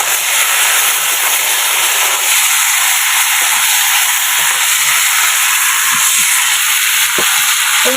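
Chicken meat for a Bengali kosha mangsho hits a hot pan with a loud, continuous hiss of sizzling that stays steady and close for the whole stretch, with a few faint knocks underneath and no voices.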